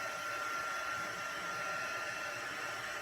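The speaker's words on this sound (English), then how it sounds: "I'm just going to hit this just quickly with my heat tool just to make sure it's nice and dry" A handheld crafting heat tool blows a steady, even airy hiss while drying black pigment ink on a stamped card, continuous and fairly soft throughout.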